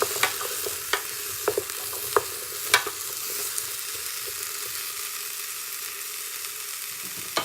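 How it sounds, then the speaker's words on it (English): Chopped apple and parsnips are stirred in a Morphy Richards soup maker, giving a steady close sizzle with several light scraping knocks of the spoon in the first few seconds and no talk. "I'm going to add in my chopped apple and parsnips. Give them a good stir around."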